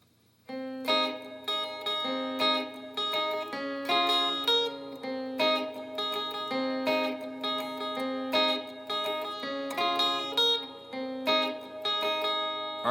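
Strummed guitar playing the verse rhythm of a song on only the bottom three strings, a steady looping chord pattern with even rhythmic accents throughout, played alone with no voice.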